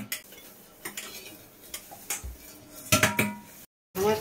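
Boiled yam being mixed with mustard oil and mustard paste in a bowl, a series of sharp clinks and scrapes of a spoon against metal, irregular and close, with a brief gap near the end.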